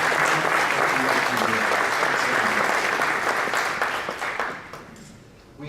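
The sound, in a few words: audience applause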